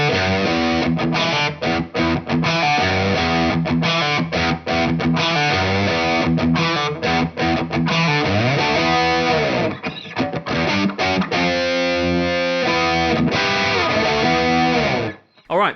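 A Gibson Custom "Monkey" 1964 SG Special guitar plays a heavily distorted electric riff, loud and sustained with chugging palm-muted stops and held chords, ending in a brief pause and a final hit.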